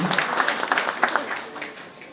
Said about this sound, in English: A round of applause, ladies and gentlemen, for our judges this evening.